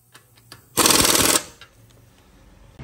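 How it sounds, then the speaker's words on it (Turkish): Short burst of a small pneumatic impact gun tightening a fastener during an air suspension install on a BMW F10 520d, loud and close, lasting about half a second amid quiet workshop clicks. "Adam küçük tabancayla niye sıkıyor?"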